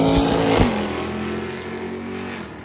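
A small block class drag car launches hard in the right lane, a sharp burst of engine roar at the start giving way to a steady, receding drone down the strip with crowd-distance ambience.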